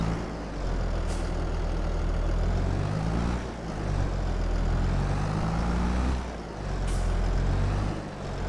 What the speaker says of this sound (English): I love how you can hear the air brakes